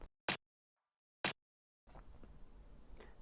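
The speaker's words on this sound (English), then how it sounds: "And this is the second clap." A second clap sample for a remix sounds twice as short, dry, tight snaps separated by silence, followed by a soft background hiss.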